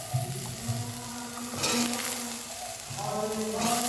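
An egg dropped into a hot pan sets off a steady, close frying sizzle with a brief louder burst of crackle partway through, continuing without any talking.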